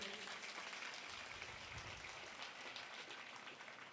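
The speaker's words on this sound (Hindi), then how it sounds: "व्यास गद्य पे विराजमान हमारे आचार्य जी के लिए जोरदार ताली बजाइए" Audience clapping at a Shrimad Bhagavat Katha in New Delhi, honoring the teacher seated on the Vyas seat; a steady, fairly faint wash of many hands continuing throughout without voices.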